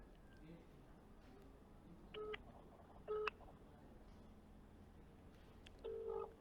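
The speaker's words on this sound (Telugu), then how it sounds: "శ్రీతేజ్కి కాల్ చేస్తున్నాను" Telephone keypad dialing tones sound as a call is placed: three short, faint bursts of paired beeps spaced a second or more apart over a low, quiet background hiss.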